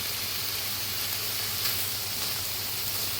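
Liver and sliced onions fry in a pan with a steady, even sizzle and hiss that runs throughout at moderate level, with no talk over it.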